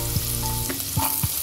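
Onion frying in hot oil with bay leaf and whole spices, a steady close sizzle with a few soft stirring scrapes and clacks, no voices.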